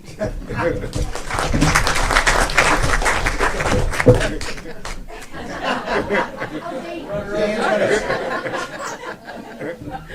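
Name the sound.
school board meeting audience applauding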